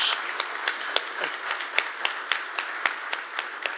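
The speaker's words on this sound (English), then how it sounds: "a round of applause for your very frank perspective" Scattered clapping from a modest crowd, sharp individual claps repeating steadily throughout.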